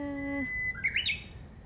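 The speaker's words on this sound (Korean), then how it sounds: "새소리 듣고" A short bird chirp follows a steady tone, a quick bright twitter of a few rapid notes, faint and alone, with no voices over it.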